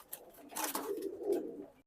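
A racing pigeon gives one soft, throaty coo, close and clear, with a little rustle before it.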